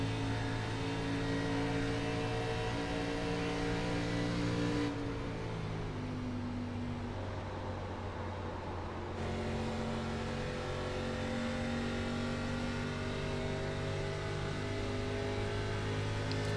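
A simulated ARCA race car engine at Pocono in iRacing roars loudly and continuously, its pitch dropping at a shift and then climbing again as it accelerates, with no talk.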